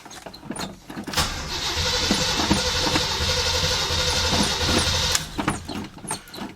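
An old 1946 Ford truck engine cranks briefly, then catches and roars steadily for several seconds before cutting out, loud and close, with no talking.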